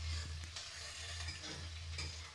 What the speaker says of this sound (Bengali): পেঁয়াজটা একটু হালকা করে ভেজে নেবো, বেশি ভাজা হবে না।